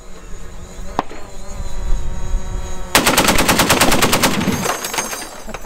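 .50 caliber machine gun firing armor-piercing incendiary rounds outdoors: one isolated shot, then a loud, rapid burst of about a dozen evenly spaced heavy reports over steady background noise.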